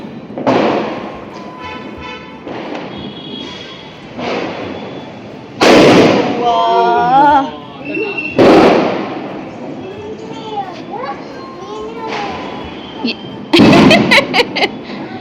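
Diwali firecrackers burst loudly one after another in a repeated series of sharp blasts, some close and crackling, with excited voices talking and calling out between the explosions.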